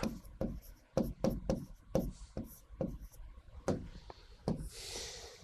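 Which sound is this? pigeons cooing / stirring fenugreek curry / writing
writing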